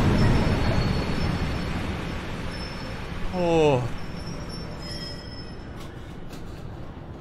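A subway train pulls into a station in a horror video game, a rising wheel squeal and rumble swelling mid-clip over constant ambient noise, with a brief spoken exclamation.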